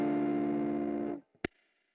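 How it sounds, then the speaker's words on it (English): An electric guitar played through a homemade overdrive/fuzz/distortion pedal, with the gain turned down so it cleans up slightly. A sustained, loud, still-fuzzy chord rings for about a second, then is muted, followed by a brief pick click and a faint fading buzz. "it does sound like a distortion, and it cleans up, sort of, with lower gain settings"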